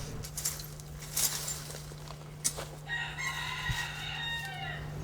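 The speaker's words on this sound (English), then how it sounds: "Hear the roosters?" Roosters crowing in Key West, a drawn-out cock-a-doodle-doo rising near the end over steady background hum, with fainter clucks and bird sounds earlier.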